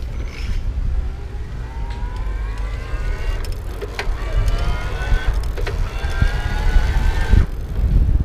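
A Bosch motor on a Gazelle CityZen Speed e-bike runs in turbo mode with a rising whine that climbs in pitch several times, over road rumble, wind and a few clicks.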